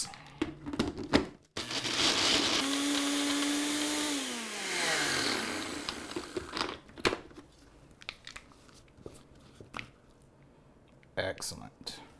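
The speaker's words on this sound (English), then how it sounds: "Put that in your blender cap and give it a whiz." A blender whirs for a few seconds blending raw pistachio cake ingredients into a paste, its motor pitch steady and then dropping as it winds down, with talking before and after.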